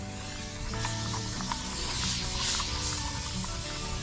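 Alcohol spray is pumped from a bottle in bursts of airy hiss over steady background noise, each press releasing a brief misty spray.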